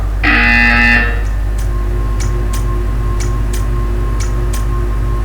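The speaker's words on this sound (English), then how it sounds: "When you hear the buzzer, stare at the art." A harsh electronic buzzer in the video game Portal 2 blares for about a second, followed by a run of soft, evenly spaced ticks over a low steady hum.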